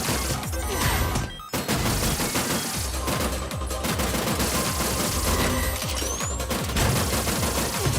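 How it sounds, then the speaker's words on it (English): Rapid, relentless gunfire from a Terminator 2 style video game as a glowing orb boss is shot, a loud, dense stream of rattling shots with a brief dropout early on, backed by pounding game audio. "this is very Contra right here, shooting a glowing orb"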